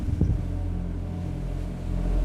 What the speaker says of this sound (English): Can you hear the engines roar?